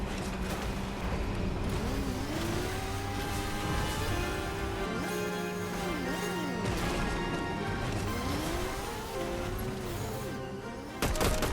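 Vehicle ramming a player in Fortnite, heard as a loud crash and thwack impact over a continuous bed of game music and engine noise, with a sharp burst near the end.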